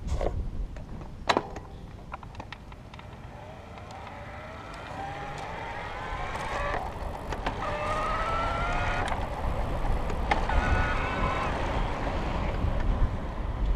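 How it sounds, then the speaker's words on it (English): A Felt SPORTe e-bike's electric motor runs in turbo mode, a faint rising whine that grows louder and steadier over wind and road rumble, starting and easing as the rider pedals. "I'll show you what the motor sounds like when we get it going."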